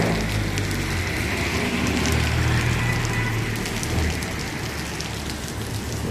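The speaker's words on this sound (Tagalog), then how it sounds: "Tapos bigla nang umulan." A sudden heavy downpour in Los Baños, Laguna: steady, dense rain hissing on surfaces, loud and unbroken throughout, with no voices.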